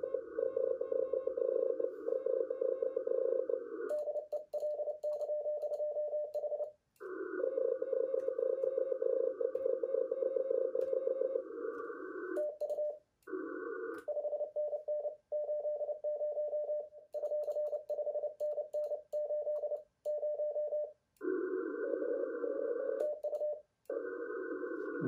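Amateur radio contest station received on the 15-meter band on an ICOM IC-705 HF transceiver, sounding as a steady Morse code tone keyed on and off in long runs, with the signal breaking up repeatedly against a background of band noise.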